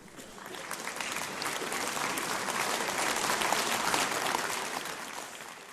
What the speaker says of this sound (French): Et cette décision fut suivie d'un tonnerre d'applaudissements.